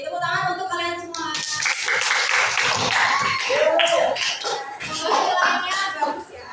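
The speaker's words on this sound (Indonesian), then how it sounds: "Tepuk tangan untuk kalian semua." Students in a classroom clap for one another, a busy, mixed patter of hands that lasts throughout, heard under children's voices and chatter.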